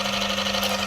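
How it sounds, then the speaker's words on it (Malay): Engine idling steadily after starting, its oil mixed with an engine treatment; a constant close hum with a strong steady low tone and even vibration throughout, no voices. "Okey, kita start enjin."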